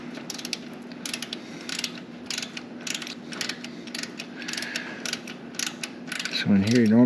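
A ratchet wrench tightens a fitting on a Harley-Davidson during a service: a steady run of close, crisp clicking strokes over a low hum, ending with a brief tonal sound.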